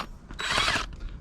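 Cordless drill straining to drive a scissor jack, heard as a brief burst of whirring, ratcheting mechanical noise lasting under a second, fairly loud and close.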